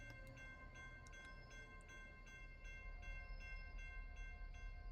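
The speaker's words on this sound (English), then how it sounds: "That's the other train." A train passes in the video game Automatic Transit Operations, a faint, low rumble with steady tonal hums and regularly spaced clicks of wheels over rail joints.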